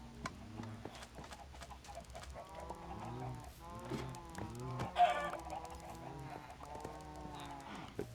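Chickens in the Minecraft video game cluck repeatedly in short bursts over a faint steady background, the calls scattered close by with no talk.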